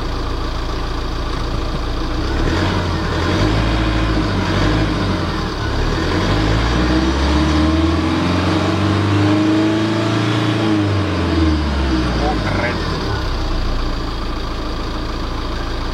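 A 2018 Tata Xenon 4WD engine revs up and settles back, a loud, close, steady rumble that swells in the middle and lasts the whole stretch, with no talking.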